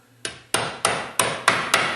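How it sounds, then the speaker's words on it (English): Hammer tapping a socket to seat an oil wiper seal during an engine rebuild: six sharp, evenly spaced metallic taps, close and fairly loud, with no voices. "Work around the edges, tap,"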